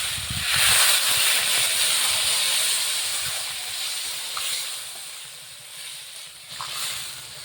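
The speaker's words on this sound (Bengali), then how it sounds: "সবজি ভাজা ভালো করে হয়ে গেছে এখন জল দিয়ে দেবে" Water poured into a pan of frying mixed vegetables for shukto, including bitter gourd and eggplant, setting off a loud broad steam hiss that swells at once and slowly fades, with no talk.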